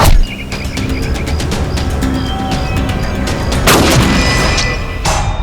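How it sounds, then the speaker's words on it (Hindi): A gunshot cracks out in a tense indoor scene from a CID crime drama, one loud sharp report rising over steady background noise, followed by a second burst shortly after, with no talk in between. "चेतन, फायर किसने किया?"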